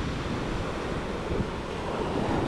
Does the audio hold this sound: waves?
yes